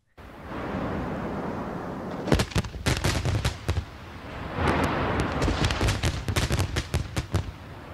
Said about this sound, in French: On entend résonner sur le viaduc lorsque sont tirés les feux d'artifice